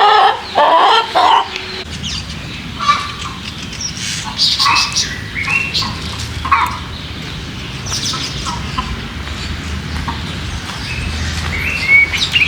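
Backyard chickens in a city farm setting cluck and squawk repeatedly over several seconds, with bursts of calls rising above a steady murmur of the flock, close and fairly loud throughout.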